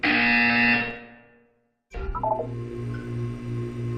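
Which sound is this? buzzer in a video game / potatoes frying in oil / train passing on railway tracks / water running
buzzer in a video game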